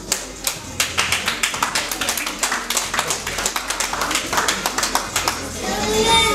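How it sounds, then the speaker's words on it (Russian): An audience at an award ceremony applauds steadily, with dense rhythmic clapping that stays loud and continuous throughout and swells slightly toward the end. "Аплодируйте."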